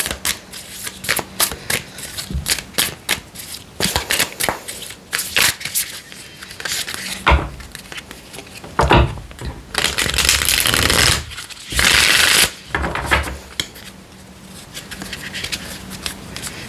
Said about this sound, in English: I will pull one of these cards.